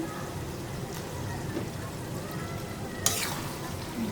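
Potatoes and fish fry in a pan with spices, giving a steady close sizzle under occasional stirring, with one brief sharp scrape near the end.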